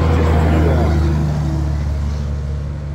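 A large truck rumbles past on a New England roadside in autumn, a loud, steady low engine drone that fades slightly as it moves away, with faint voices in the background.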